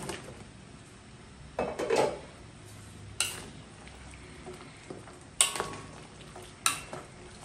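Okra, eggplant and radish are stirred in a cooking pot over a quiet bubbling background, with a few separate bursts of clattering spoon-against-pot scrapes.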